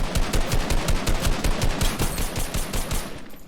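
Rapid automatic gunfire in a shooter video game, a loud, close, continuous burst of rattling shots in quick rhythm lasting the whole stretch, with no talk over it.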